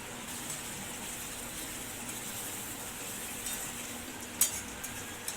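Softened tomato with a pinch of turmeric sautéed in a pan for a chana dal and onion dish: a steady, soft sizzle runs throughout, with a few light scrapes of a spoon near the end and no talking.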